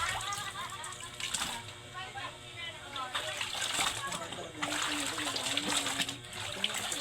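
A washing machine sloshes and splashes water in a steady, churning wash, with faint voices in the background.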